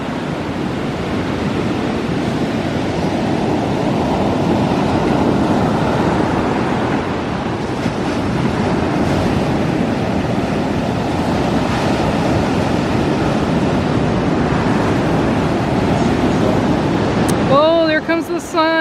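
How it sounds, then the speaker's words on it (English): Ocean surf on Myrtle Beach rolls in as a steady, broad wash of breaking waves, with wind rumbling across the microphone throughout. A brief burst of nearby sound comes near the end. "Let's go up here and get a closer listen to the ocean."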